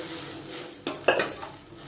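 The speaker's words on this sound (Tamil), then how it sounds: "இப்போ நம்ம இந்த வேக வச்சு வச்சுருக்க பட்டாணி ஆட் பண்ணிக்கலாம்." Boiled white peas are tipped into a pan and stirred, with a couple of sharp metallic clinks and scrapes of a spoon against the vessel over faint frying, close up and without speech.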